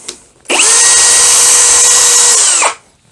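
An Einhell TP-CD 18/120 cordless impact driver drives a thin screw in one steady, loud whine lasting about two seconds, with a brief ramp at the start and a quick wind-down at the end.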